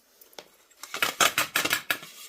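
A knife chops ingredients for roadside-style bajji, giving a run of sharp, close chopping taps that start sparse and grow quicker and louder, with no talking.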